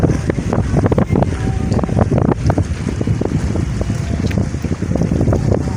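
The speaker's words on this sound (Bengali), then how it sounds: "আর আজকে হাওয়াও আছে" Wind gusting by a river in the Sundarbans near a ferry ghat, buffeting loudly and steadily with a rough, rumbling roar throughout, no voices.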